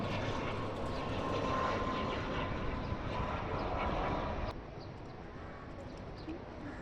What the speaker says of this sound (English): Yeti Airlines, Buddha Air and Sri Lankan Airlines taxiing on runway for takeoff.